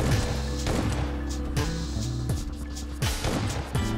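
A zombie explodes in the zombie mode of the PUBG Mobile video game, heard as repeated heavy booming blasts and gunfire-like bursts over a dense, constant game soundscape.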